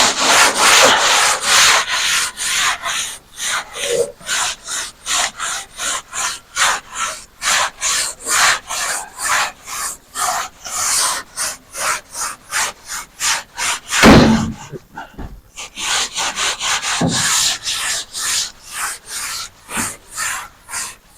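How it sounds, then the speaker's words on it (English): Steady rhythmic rasp of a 180 grit black diamond sanding block rubbed back and forth in repeated strokes, loud and close, with a brief pause midway before the strokes resume. "So we're basically just going to start block sanding"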